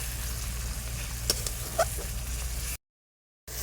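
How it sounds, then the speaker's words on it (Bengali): Spice paste of tomato, green chilli, garlic, ginger, turmeric, chilli powder and coriander powder fries in oil in a pan for egg ghugni, giving a close, steady sizzle that cuts off abruptly near the end. "মশলাটা ভাজা হয়ে এসছে"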